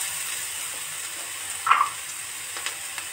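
Onion and carrot frying in olive oil give a steady, soft sizzle and hiss, with one brief louder spatter partway through, close and fairly quiet.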